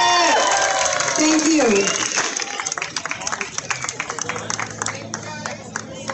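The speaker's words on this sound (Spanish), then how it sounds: "Aplauso, por favor." Crowd clapping and cheering at a Pan American food and music festival in Toronto, with dense applause and shouts building under a voice that speaks briefly over it.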